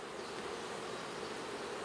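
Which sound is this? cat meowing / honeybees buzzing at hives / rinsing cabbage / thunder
honeybees buzzing at hives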